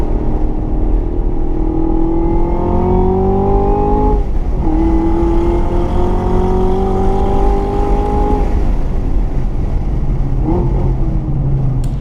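Chevrolet Camaro ZL1 on a race track, the engine loud and close as it climbs through gears with rising revs, dips at shifts, then pulls again; continuous roar with no talking.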